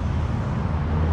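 A noisy car rolls past in Cookstown town centre in County Tyrone, a brief, fairly loud low exhaust rumble mixed with the hiss of the road.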